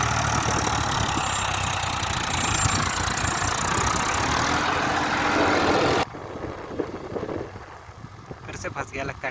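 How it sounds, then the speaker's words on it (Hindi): A tractor engine runs while the tractor is stuck: a loud, steady rumbling drone that drops abruptly partway through to a quieter, uneven engine sound with some knocking and rattling. "फिर से फंस गया लगता है ट्रैक्टर।"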